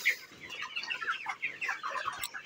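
Broiler chickens in a poultry shed cluck and chirp together in a dense, continuous chorus, close and steady.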